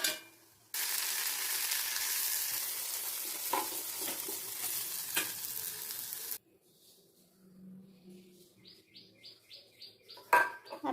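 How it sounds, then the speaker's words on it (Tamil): Shallots and tomato sautéing in a pan for a coconut-milk egg curry give a loud, continuous sizzle with scraping stirs, then cut off abruptly to a quiet backdrop of bird chirps and a few soft clatters. "வெங்காயம் நல்லா பொன்னிறமாக வந்ததும் கட் பண்ணி வச்ச ஒரு தக்காளி பழத்தை இதோட சேர்த்து நல்லா வதக்கிக்கலாம்"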